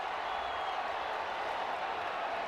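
A large football stadium crowd roars in a steady, dense wash of cheering and noise, distant and continuous, with no distinct voices standing out.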